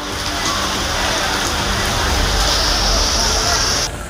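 Heavy monsoon rain pours down steadily in the Vasai-Virar area, a loud dense hiss of water on surfaces that fills the whole moment before easing slightly at the end.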